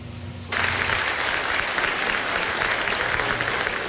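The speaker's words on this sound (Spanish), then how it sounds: "Una extensa ovación antecedió el expectante discurso" A long ovation for a presidential speech: a large crowd bursts into dense, steady applause after a quiet moment, the clapping rising suddenly and holding at full strength throughout.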